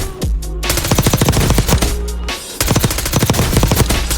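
Rapid automatic gunfire at the firing range in Warzone, sounding as loud, close bursts of fast regular shots, broken by two short pauses, with no voices.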